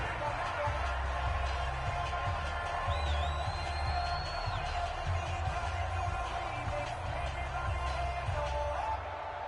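A stadium crowd at Arrowhead roars in a Madden football video game on third and goal, a dense steady wash of noise under continuous play-by-play commentary.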